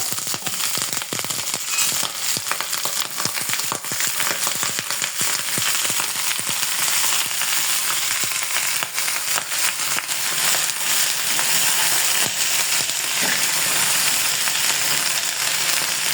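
Okra and other vegetables fry in mustard oil, a continuous dense sizzle with crackling pops that holds steady and fairly loud throughout.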